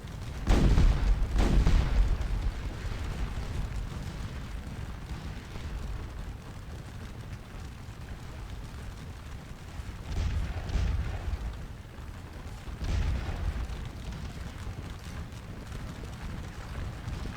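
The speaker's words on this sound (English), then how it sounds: "firing shrapnel is so darn effective that it's hard to resist the opportunity" Artillery firing shrapnel in the Napoleonic battle game Scourge of War: Waterloo, a series of deep booming cannon shots, a strong one early then several softer distant thuds, over a constant low battlefield rumble.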